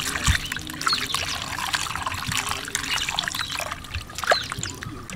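Water trickles and pours over tilapia soaking in tamarind water in a home kitchen, a steady close splashing with a few brief louder spills, no talk.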